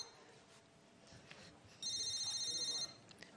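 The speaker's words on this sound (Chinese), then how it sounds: "你电话？ 谁电话？ 你电话。" A telephone rings during a comedy sketch on stage: one bright electronic ring lasts about a second in the middle of the stretch, louder than the quiet room around it.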